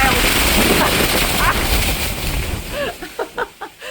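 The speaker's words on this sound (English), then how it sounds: "It was real windy there." Loud, steady wind roars and buffets the microphone for about three seconds on a high lookout near Corfe Castle, England, then drops away, leaving brief bursts of speech.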